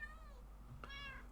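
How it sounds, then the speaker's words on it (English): Cats in the video game Minecraft, two short meows about a second apart, clear and close over a low steady background hum. "If you can hear meows in the background, they are creeper protection."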